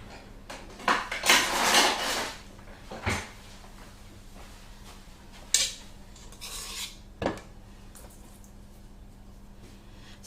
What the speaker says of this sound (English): I'm just going to give them a little bit of a crumb coat